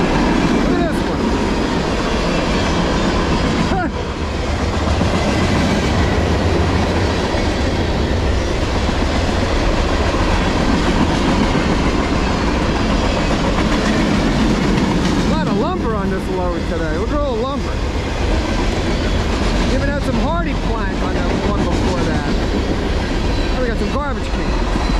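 A CSX M406 manifest freight train rolling past on the line through Middlesex, New Jersey: loud, continuous close-up rumble and rhythmic clatter of wheels over rail joints, with occasional squeals and clanks, lasting throughout.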